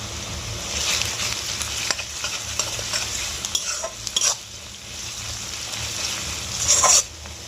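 Chopped onion and green chili sizzle steadily in a pan while a spatula scrapes and stirs in irregular strokes, the frying hiss bright and constant with louder scraping bursts near the end.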